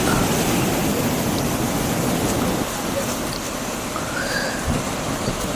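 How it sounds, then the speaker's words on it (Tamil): Heavy cyclone rain pours down in Puducherry, a dense, continuous roar of falling water heard steadily throughout with no voices over it. "கண்டினியூஸாக மழை இருந்துகிட்டே இருக்குது"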